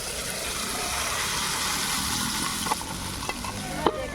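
Taro and eggplant curry sizzling steadily as it fries and is stirred in a pan, a continuous close hiss with a few soft scraping clicks near the end.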